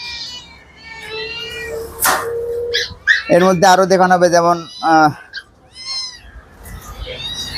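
Persian kittens at Katabon animal market in Bangladesh give several high, thin meows close by, mixed with someone talking and market noise.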